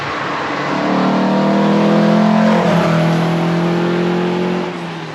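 A classic Lancia Fulvia engine revs loudly and steadily while driving on the road, its tone rising through the gears and then easing off near the end.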